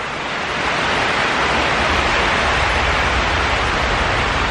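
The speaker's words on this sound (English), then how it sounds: "But now it's just pouring" Dense, steady roar of heavy rain pouring down during a tornado, a constant broadband wash with no pauses and no voices.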